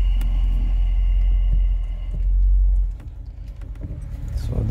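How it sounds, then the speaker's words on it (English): A Lexus IS F with a faulty wheel-speed sensor reverses, its engine giving a deep, loud rumble that swells and then drops to a quieter idle, with a light clicking and rattling near the end. "The car is moving reverse."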